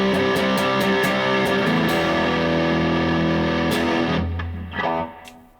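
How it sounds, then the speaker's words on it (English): An electric guitar plays through a Tone City Mickey distortion pedal with its gain set to the middle, giving loud, thick, sustained distorted chords that ring out and then fade. "So if we turn the distortion up, it's in the middle right now."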